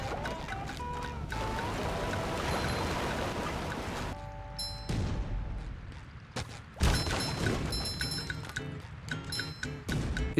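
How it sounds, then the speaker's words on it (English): The Jellyfish Fields waterfall from the video game SpongeBob Battle for Bikini Bottom Rehydrated rushes as a dense, continuous wash of water, mixed with game music and scattered bright chimes and effects, with no talking. "a great example of that is Jellyfish Field's Waterfall"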